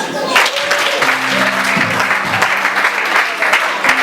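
A church congregation applauds loudly and steadily throughout, dense clapping filling the room with a voice calling out over it.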